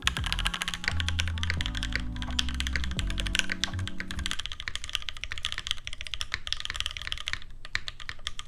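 Rapid clicky typing on a mechanical TKL keyboard, steady and close, with a low hum beneath the first half.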